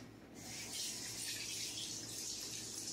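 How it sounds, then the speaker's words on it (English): A kitchen water tap runs while hands are rinsed, a soft, steady rushing stream that starts abruptly and continues alone at low volume. "I've got to rinse my hands off."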